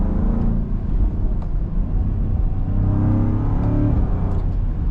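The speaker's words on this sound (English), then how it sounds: "You can hear some rumbles on that exhaust." A 2026 Land Rover Defender 130 V8 rumbles steadily while driving, a deep, loud exhaust drone with swelling revs from inside the cabin, no talking.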